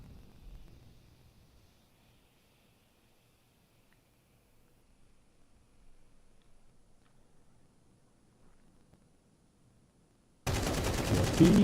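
Loud, sustained automatic gunfire from a Counter-Strike tournament match erupts suddenly after a long near-silent stretch of faint game ambience and low murmuring.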